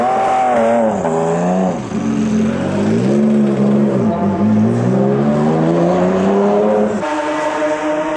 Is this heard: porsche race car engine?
yes